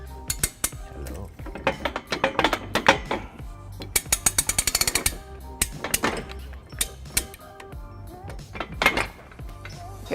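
A ratchet with a 3/4 inch socket snugging bolts on trailer hitch hardware on a 2005 Chevrolet Impala, with bursts of rapid metallic clicking interspersed with clanks and clinks of tools, close and fairly loud.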